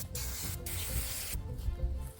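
Brake cleaner hisses from an aerosol can onto a chainsaw bar and chain in two loud, sustained spray bursts with a short break between them, close up.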